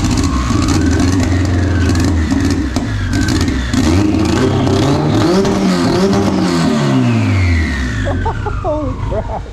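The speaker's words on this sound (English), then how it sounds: "Y'all ever heard a 4-cylinder chop?" A Honda four-cylinder engine revs hard and loud with a choppy, lumpy idle, its pitch sweeping up and down through repeated blips before settling lower near the end.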